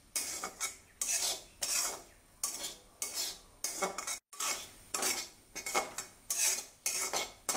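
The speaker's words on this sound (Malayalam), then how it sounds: "തേങ്ങ നന്നായിട്ട് ഇളക്കണം." Crushed coconut roasting in a pan is stirred with steady scraping strokes, roughly one every second, close and fairly loud, with a brief break midway and no voices.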